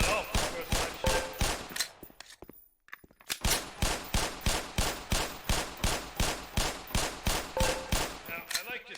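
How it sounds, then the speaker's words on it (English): Gunfire at shooting range targets in the video game Black Mesa: a rapid, evenly spaced series of loud close shots, a short pause, then another long regular string of shots. "Put 7 rounds in the center ring of each target."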